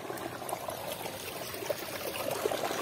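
Water trickles steadily from a channel into a large field, a soft continuous burbling stream heard nearby with small splashes and no talk.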